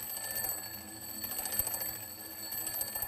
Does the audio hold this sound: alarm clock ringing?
yes